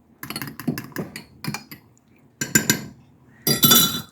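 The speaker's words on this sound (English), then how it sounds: "I'm going to whisk it and just stir it until it is thickened" Whisk clinking against a bowl while gravy packet mix is stirred until thickened, with irregular bursts of quick metallic taps and scraping separated by short pauses.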